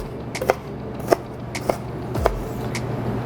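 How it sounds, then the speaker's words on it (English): A knife chops onion into small pieces on a cutting board, five sharp separate taps spaced about half a second apart, close and clear. "we wanna try to cut it in thin slices, and then again, chop it a little bit into smaller pieces"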